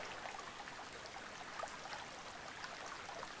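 A creek flowing beside a hiking trail in the Caney Creek Wilderness, Arkansas, gives a faint, even watery rush with small trickling splashes, steady and without talk.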